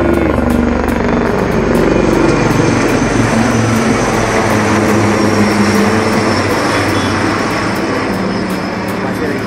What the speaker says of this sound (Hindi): मुझे बताना है कौन सा हेलीकॉप्टर है